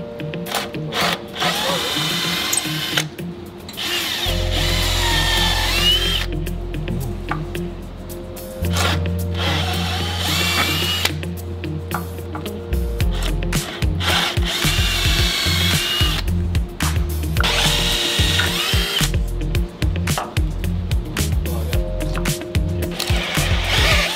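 A power drill whines in repeated bursts, boring pilot holes then quarter-inch holes for mounting screws, with the motor pitch rising and falling as it bites in and stops between runs.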